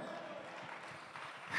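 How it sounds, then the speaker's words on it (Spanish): A church congregation applauds during Pastor Manuel Moran's sermon: a brief, even wash of many hands clapping together, soft and steady, swelling slightly at the very end. "Dele un aplauso al Señor."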